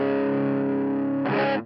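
An electric guitar plays through a Source Audio LA Lady overdrive pedal on its smooth setting, with no reverb or delay on the amp. A sustained, mildly distorted chord rings, then a fresh strum brightens it near the end.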